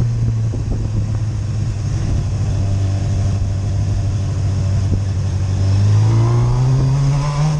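Honda CBR600F motorcycle engine revving loudly and steadily on a night ride during a wheelie, a strong droning tone that climbs in pitch near the end as the throttle opens, with no talk.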